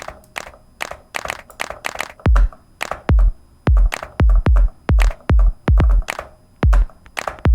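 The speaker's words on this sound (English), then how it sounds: "let's grab a hand clap" Hand clap drum samples in an Ableton Live drum rack fire one after another, sharp loud claps in an uneven run, some with a heavier low thump, no voices.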